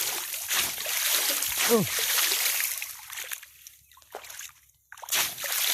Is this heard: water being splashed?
yes